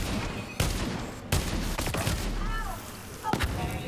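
Sniper rifle fire in the video game Borderlands 3, several sharp, loud shots spaced a second or so apart, with bursts of game effects and whooshing sounds between them.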